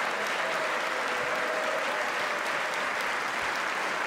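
Sustained applause from a large audience at the State of the Union address, a steady dense wash of clapping filling the whole stretch without pause.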